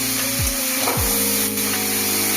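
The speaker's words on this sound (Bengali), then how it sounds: "আগে বিট গাজরের সাথে আলু গ্রেট করাটাকে ভালোভাবে ভেজে নেবো" Grated potato, beetroot and carrot fry in a pan with a steady, dense sizzle that runs nonstop, loud and close, with a few brief stirring scrapes and no talking.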